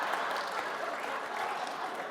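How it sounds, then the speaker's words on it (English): A large audience at the Reagan Forum applauds and cheers in a dense, steady wash of clapping, with no distinct chant audible. "The crowd is saying, "Go, Regis,"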